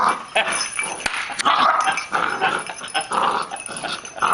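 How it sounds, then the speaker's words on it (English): Small dog barking in short yips, with whimpers mixed in, close and fairly loud, in an irregular run of calls. "Good little dog, man. Good little dog right there."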